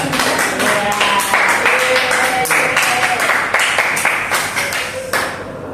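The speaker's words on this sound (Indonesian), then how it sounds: "Oke, tepuk tangan dong untuk Mas Roman" A classroom of students claps during a science teaching practice lesson, loud, close and somewhat uneven, with sharp individual claps and a bit of chatter mixed into the clapping before it trails off.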